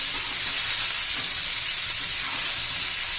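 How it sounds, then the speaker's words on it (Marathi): Chopped onions sauté in a pan for a mung dal and onion dish, a loud, steady, hissing sizzle that holds evenly without pause; no voices. "चांगला कच्चेपणा जायपर्यंत आपण कांदा परतणार आहोत"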